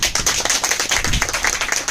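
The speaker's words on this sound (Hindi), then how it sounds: "उस सबके लिए ताली हो जाए" A business meeting audience claps for a sales team, a loud, close and slightly rhythmic burst of many hands that runs throughout without talk.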